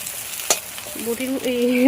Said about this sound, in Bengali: এমনিই ভাজছি ডিমটাকে।